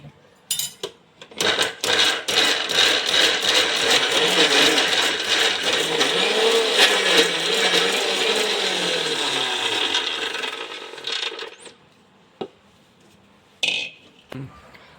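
A kitchen mixer grinder whirs continuously for about ten seconds while blending carrot for a millet payasam, its motor pitch rising and falling, then cuts off, followed by a few clinks and knocks.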